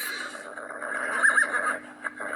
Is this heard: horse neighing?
yes